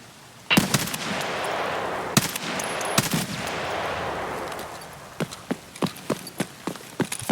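Gunfire in a video game: a loud burst of sustained rapid shots, then a few sharp single cracks and a quick string of evenly spaced shots at the end, with no talk.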